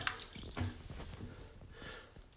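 A heavy apple drops into a container of water, producing a continuous close watery splashing and sloshing that fills the whole moment.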